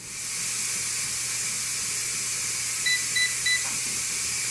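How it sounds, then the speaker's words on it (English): Three short electronic beeps in quick succession, evenly spaced, ring out over a steady background hiss from a NESCO smart electric pressure canner canning pinto beans. "when this is finished counting down, it will beep again"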